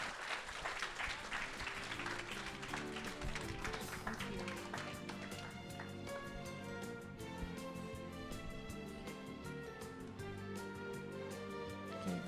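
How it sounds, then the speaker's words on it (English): An audience at a business seminar applauds after a presentation, clapping strongest in the opening seconds and then continuing quietly beneath sustained background music. "Please give her a big round of applause."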